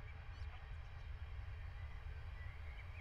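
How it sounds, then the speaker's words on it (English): A train in Train Simulator 2017, running from Marseille to Avignon, gives a steady low rumble of rolling motion that stays constant and fairly faint throughout, with a few faint high squeals and no talking. "so that's train on its way now"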